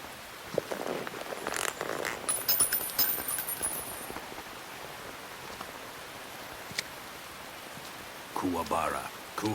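Steady rain falls in a Metal Gear Solid 3 cutscene, a soft continuous hiss under voices and scattered movement sounds.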